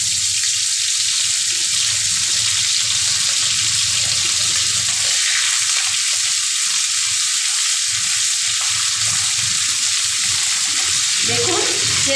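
Washed shidol, fermented dried fish, frying in hot oil over low heat for a potato mash dish, a loud continuous close sizzle holding steady throughout.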